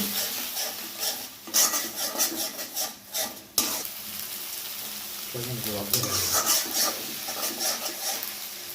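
Ginger and garlic paste sizzles in an iron wok while a chicken roast is cooked, a steady frying hiss with scraping stirs and a brief sharp clatter partway through.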